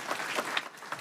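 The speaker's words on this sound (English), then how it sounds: "thank you very much indeed for this applause" An audience at a university academic-year inauguration ceremony claps in a brief, faint patter of applause heard from a distance.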